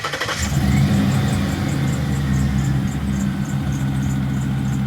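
A lifted Grand Marquis engine cranks and catches, then settles into a loud, steady idle with a faint rhythmic ticking running through it.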